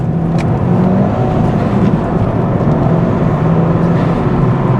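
A modified 300hp Ford Fiesta ST with a 1.6 litre engine, heard as a loud, steady engine drone with a continuous low growl and rising whir throughout, close and without speech.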